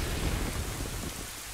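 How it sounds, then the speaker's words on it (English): Rain and rolling thunder in Zelda: Ocarina of Time, a dense, steady roar of downpour with a deep low rumble underneath, loud and continuous with no voices. "Yep, we cause more rain."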